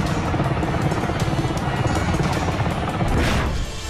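US Black Hawk helicopter flying over Kandahar, a loud, continuous rotor and engine roar with a steady low chopping throb that fills the whole stretch with no other sounds.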